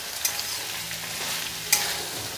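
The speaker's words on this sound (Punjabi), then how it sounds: "ਆਲੂਆਂ ਨੂੰ ਆਪਾਂ ਮੀਡੀਅਮ ਟੂ ਲੋ ਫਲੇਮ ਤੇ ਪਹਿਲਾਂ 5 ਮਿੰਟ ਇਸੇ ਤਰ੍ਹਾਂ ਭੁੰਨਾਂਗੇ ਨਾਲ ਦੀ ਨਾਲ ਚੰਗੀ ਤਰ੍ਹਾਂ ਹਿਲਾਉਂਦੇ ਰਹਿਣਾ" Potatoes stirred and roasted over medium-to-low flame in a cumin tempering for jeera aloo; a soft, steady sizzle runs under two sharp scrapes of the spoon against the pan, with no voices.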